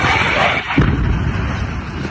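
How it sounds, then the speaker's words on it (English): A giant explosion from a crashed airplane bursts out abruptly amid loud, constant roaring noise, a short heavy boom followed by sustained rumbling wash. "Can you imagine being in traffic and this giant explosion happens?"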